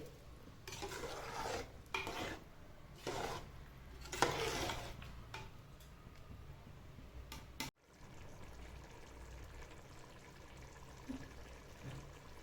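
Soaked seeraga samba rice is stirred into mutton biryani masala, with gentle wet scraping strokes in bursts, close but quiet.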